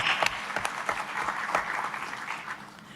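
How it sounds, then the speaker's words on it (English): Applause from an audience at a G20 panel on cross-border payments, a moderate patter of clapping that thins out toward the end. "Can we give him a round of applause?"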